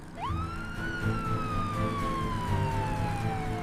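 A police siren closing in behind a motorbike: one wail climbs quickly, then sinks slowly and steadily. Rumbling road noise runs underneath, and the siren sounds moderately close.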